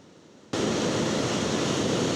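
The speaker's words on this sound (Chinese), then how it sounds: "一波一波大影拍起来到海岸，看起来是真惊人。" Big waves whipped up by a typhoon crash against a rocky northeastern coast, a sudden loud roaring wash of surf that starts abruptly after a brief quiet moment and keeps booming close by, with no voices.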